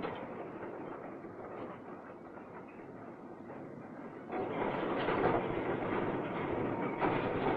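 A 1960s special railway train laying continuous welded rail onto concrete sleepers, heard as a steady low mechanical rumble with rolling rail noise that grows louder partway through and stays constant, with no voices.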